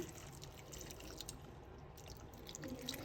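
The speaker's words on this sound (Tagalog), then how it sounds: "Ilalagay ko na po yung tubig." About three quarters of a cup of water is poured into a cooking pot holding fish and kamias for pinangat, giving a steady, faint splashing wash with no talk.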